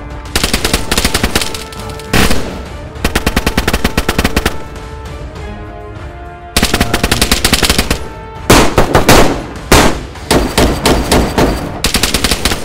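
Bursts of automatic gunfire from DayZ, loud, near rapid volleys broken by short pauses, several long strings of shots and a few separate shorter bursts across the span, with no voices.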